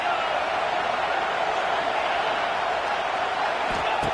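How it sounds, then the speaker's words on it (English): A large Ohio State Buckeyes football stadium crowd roars on third down, a dense sustained wash of cheering and noise at steady loudness throughout. "The Buckeye crowd alive on 3rd down."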